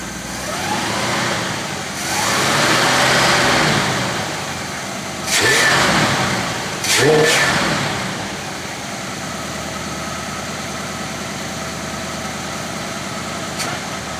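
A 1966 Chevy Biscayne big block V8, once stuck with a dead cylinder, idles steadily up close and gets blipped into several sharp revs before settling back to an even idle.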